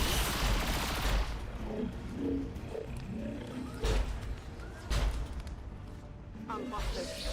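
Gunfire in the video game XCOM 2, several heavy blasts and bursts of shooting breaking through a busy, rumbling game soundscape, with a person talking over the action at times.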